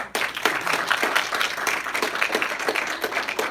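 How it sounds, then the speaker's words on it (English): Brief round of hand clapping for a graduate at a graduation gathering, a handful of people clapping steadily and close by throughout the short stretch. "Y'all gonna give him a hand clap?"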